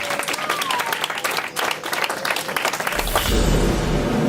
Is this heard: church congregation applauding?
yes